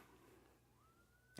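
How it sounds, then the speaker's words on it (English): Police sirens wail far off through evening city traffic, a single faint tone that slowly rises and then holds steady beneath a quiet background. "You can hear all the sirens in the background here because there's so much traffic out this evening."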